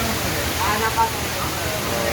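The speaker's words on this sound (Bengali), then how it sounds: "বাইরে অনেক বৃষ্টি হচ্ছে, সকাল থেকেই অনেক বৃষ্টি।" Heavy monsoon rain pours outside in Kuakata, a steady broadband wash of noise filling the background while a person talks over it.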